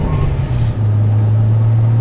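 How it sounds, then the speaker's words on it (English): A car with a Toyota 7M-GTE engine cruises under light throttle, its loud, steady low engine drone holding an even pitch close by, with a brief dip in tone early on. "So the car's running pretty good right now under like light throttle and cruising and light acceleration."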